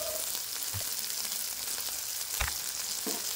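Sliced onions fry with salt and turmeric in a pan over a low flame, giving a steady, close sizzle with a few soft knocks and scrapes scattered through it.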